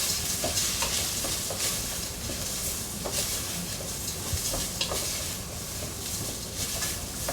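Arborio rice frying and being stirred in a pan for risotto, a steady, close sizzle with repeated scraping strokes of the spoon, continuous and even throughout with no talking.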